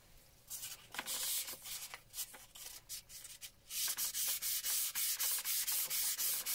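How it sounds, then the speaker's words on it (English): Fine-grit wet sandpaper in 1200 to 2000 grit rubs across an antique slate clock case in quick back-and-forth strokes, close and fairly quiet, the rhythm becoming steadier and denser in the second half. "I'm now going to give it some sanding with 1200, then 1500, and then 2000."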